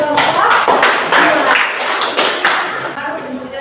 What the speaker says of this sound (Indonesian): tepuk tangan kepada dua bapak